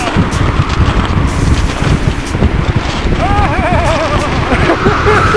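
Strong gusty wind buffets the microphone throughout a mountain ascent of Petros in the Carpathians, with snow and fog, a constant loud roaring rumble, and a faint whistling tone surfacing briefly near the end.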